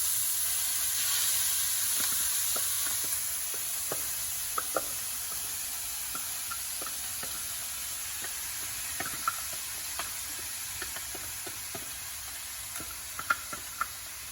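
Food frying in mustard oil in a pan, a steady low hiss of hot oil with scattered faint crackles and pops throughout, no one speaking.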